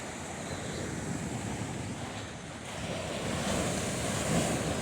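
Sea waves breaking on the beach at Almuñécar in Spain, a continuous broad wash of surf that swells and recedes, mixed with gusty wind noise on the microphone and no voices.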